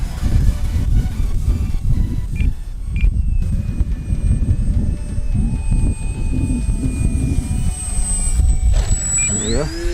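An FMS Ranger RC model airplane flies over an RC field on a windy day, its electric motor whining steadily and shifting in pitch as it passes, over a constant rush of wind.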